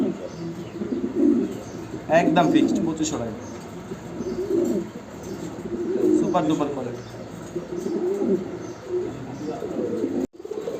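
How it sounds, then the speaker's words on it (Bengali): Many pigeons coo at a pigeon farm, soft repeated low calls in the background while someone talks over them at close range. "দর্শক দেখতে পাচ্ছেন এখানে অনেক কবুতর আছে"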